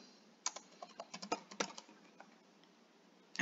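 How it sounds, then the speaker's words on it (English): Fingers type on a computer keyboard in a quiet room, a quick run of light, close key clicks with irregular rhythm that trails off into a pause and one last tap. "Then you'll type in the name"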